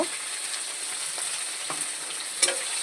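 Hilsa masala with green chilli, salt and turmeric sautéing in a pan, a steady close sizzle with a few soft scrapes of stirring and one sharper clink near the end.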